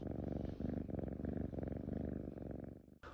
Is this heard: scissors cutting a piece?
no